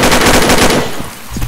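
Gunfire in a shooter video game during a clan war match, a dense, loud burst of rapid shots that fades out after about a second.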